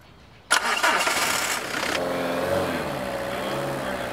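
A car engine cranks and catches after a short quiet lead-in, then settles into a steady idle; the car is running on diesel made from waste plastic.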